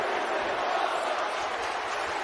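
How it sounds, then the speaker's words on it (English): A wrestling event crowd roars in a dense, steady wash of cheering and voices that fills the whole short stretch at close, loud level. "And the crowd seems to approve."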